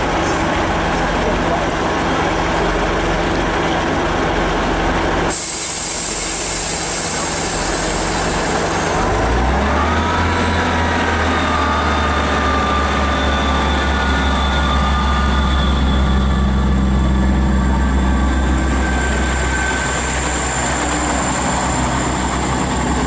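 A pair of Class 158 diesel multiple units depart a busy Chesterfield station platform, a loud engine drone that deepens and builds as they pull away, with a station announcement voice heard over the rumble.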